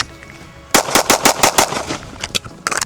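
Rapid bursts of pistol shots from a Glock 43X fitted with a Radian Ramjet compensator, a volley of about eight sharp close reports in quick rhythm, then a pause and a few more quick shots.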